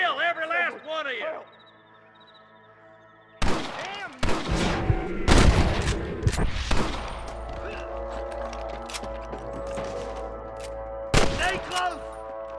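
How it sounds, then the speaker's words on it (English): Video game gunfire in a shootout scene, with heavy bursts and booming shots arriving in a loud cluster after a brief quiet spell, mixed with game music and sound effects, and another burst near the end. "I can hear more gunshots"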